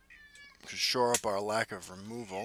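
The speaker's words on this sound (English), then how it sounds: "Sorry about the cat in the background." A house cat meows loudly and close in a long drawn-out yowl that rises and falls, a few syllables long, overlapping someone talking during a card game.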